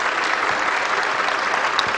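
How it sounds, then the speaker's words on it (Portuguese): Applause for an honoree at a formal assembly ceremony, a steady, dense clapping from a large audience that fills the whole stretch without a break. "Eu queria uma salva de palmas para o nosso homenageado"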